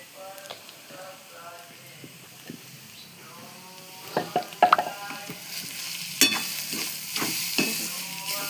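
Carrot halwa with cardamom is stir-fried in a pan, a soft steady sizzle with scraping spoon strokes that grow louder in the second half, and a voice talking faintly underneath early on.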